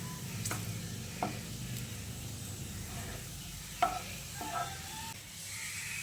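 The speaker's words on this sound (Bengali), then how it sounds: "অনবরত নেড়ে চেড়ে পেঁয়াজের বেরেস্তাটা আমি তৈরি করে নিয়েছি।" Steady low sizzle of sliced onions frying into crisp birista in a pan, with a few soft scraping clicks as they are stirred now and then.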